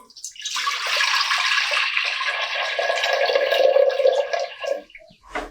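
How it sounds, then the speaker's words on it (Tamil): Measured water is poured into a pressure cooker on the stove for samai millet sweet pongal, a steady splashing gush lasting several seconds before tapering off, close and alone. "அந்த தண்ணியை சேர்த்துக்கலாம்"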